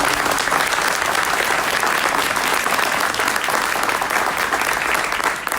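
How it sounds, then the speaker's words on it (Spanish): Loud, sustained applause from an audience at the Arde Latino America event, welcoming guests who work with Cuban refugees; dense, even clapping close up, unbroken for the whole stretch. "quiero pedir un fuerte aplauso para ellos"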